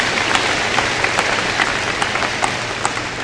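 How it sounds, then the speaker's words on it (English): An audience at the 2012 Lapeer West High School graduation ceremony claps loudly and continuously, a dense sustained applause with scattered sharp individual claps throughout. "It's worth a clap, it definitely is."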